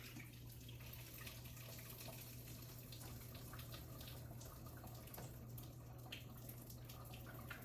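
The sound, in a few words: water being strained off into a sink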